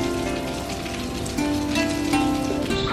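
Steady rain patters on a surface near a pottery market in Khurja, India, a continuous hiss under a tonal music-like hum, with no talk.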